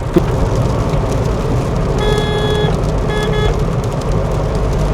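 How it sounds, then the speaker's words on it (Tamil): Heavy rain drums steadily on a car driving on a highway toward Nellore, a dense, constant wash of noise with road rumble underneath and brief tonal beeps partway through. "இப்போ மழை பயங்கரமாக பெய்ய ஆரம்பிச்சிருச்சு."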